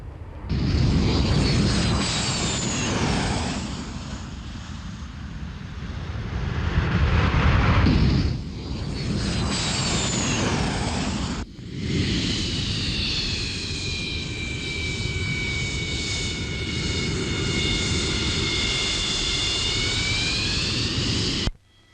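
Czechoslovak MiG-23 jet aircraft landing with brake parachutes deployed, a loud, sustained jet roar with whining engine tones rising near the end, heard alone without talk.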